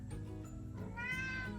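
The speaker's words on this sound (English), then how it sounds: "I don't know if you can hear in my video, that's my cat in the background." A house cat meows in the background, one drawn-out rising then falling cry, fairly faint and heard alone against a low room hum.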